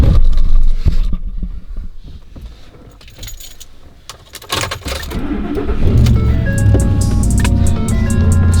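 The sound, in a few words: Gen 1 Ford Raptor engine starting up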